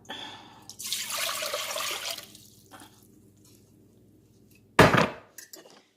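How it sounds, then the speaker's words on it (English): Water pours into a big cooking pot in a home kitchen: a rushing, splashing stream for about a second, then quiet, then a brief sharp splash near the end. "Now we put our water into the pot."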